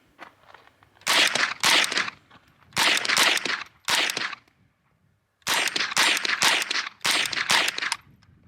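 A .22LR rifle fired with Armscor and Blazer rimfire ammunition, loud sharp shots in quick strings, several bursts separated by short pauses, with no talking.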